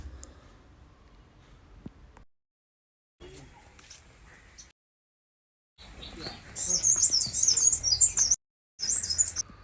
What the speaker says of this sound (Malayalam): നല്ല കിളികളുടെ ശബ്ദം കേൾക്കുന്നില്ലേ?